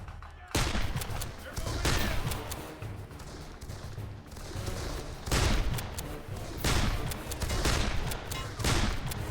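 Rapid bursts of futuristic machine-gun fire in the time-travel shooter game Darkest of Days, loud and close, with repeated volleys separated by short pauses over a busy battle din.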